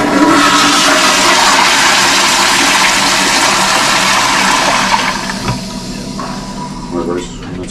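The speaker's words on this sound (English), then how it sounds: "So, looks like we need to rebuild this power flush." A power-flush toilet in a staff restroom flushes with a loud, close rushing roar for about five seconds, then drops off to a quieter trickle of refilling water.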